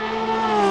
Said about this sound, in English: We can hear the sound of the Ferrari here.